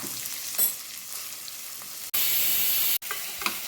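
Finely chopped onion goes into the oil left from frying squid and sizzles steadily, swelling into a louder, harsher burst for about a second near the end, with no voices.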